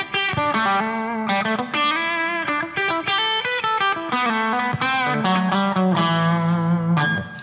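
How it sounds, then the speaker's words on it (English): Electric guitar on a clean tone patch with a big reverb through a HeadRush unit, a flowing run of picked notes and chords with lush, sustained ringing tails. "Within that patch is a bigger reverb."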